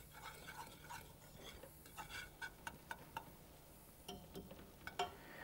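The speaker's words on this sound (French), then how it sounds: "Je vais faire mon roux et faire cuire un peu ma farine" A butter and flour roux cooks in a pan, with soft scraping stirs and light ticking sizzle heard close but faint, in scattered irregular strokes.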